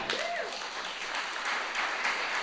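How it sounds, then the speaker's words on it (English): An audience at a motivational seminar gives a fairly faint, steady round of applause, the clapping blending into a diffuse wash throughout. "Can we give her a clap?"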